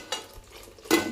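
Tender mutton with yogurt browning in a pan, with two quick stirring scrapes over a soft sizzle, close and brief.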